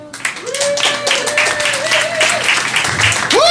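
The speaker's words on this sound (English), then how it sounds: "Big round of applause for Ray Bullock." Audience applause and cheering at a comedy club benefit show, loud and steady for a few seconds, with a voice speaking over the clapping.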